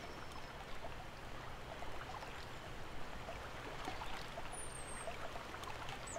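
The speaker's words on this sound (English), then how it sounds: "I like the sound of the water running." Steady broadband rush of running water, like a river flowing over rocks, continuous and even throughout with no voices, from the video game Farming Simulator 17.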